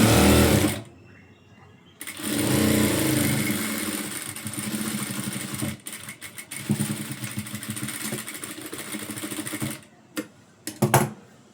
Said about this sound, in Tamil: இந்த மாதிரி ஸ்ட்ரெயிட்டாக ஸ்டிச் பண்ணிக்கோங்க.